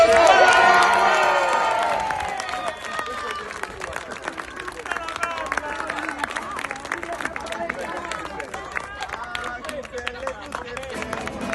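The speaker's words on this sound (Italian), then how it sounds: "Un applauso!" Crowd applause and cheering at a live Neapolitan folk song performance, loud at first and then settling into steady clapping with voices and babble mixed throughout.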